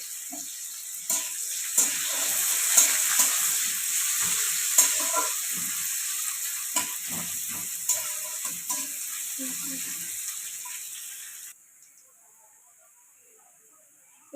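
Chopped onion dropped into hot oil in a pan, a dense broadband sizzle with scattered stirring clicks and scrapes, loud and close, cutting abruptly to a faint hiss near the end.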